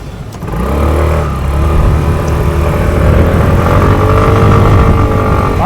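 A Yamaha X-Max scooter ridden across a bridge in Trogir, Croatia, its engine droning steadily and loud up close with rising revs and continuous wind and road rush, no voices.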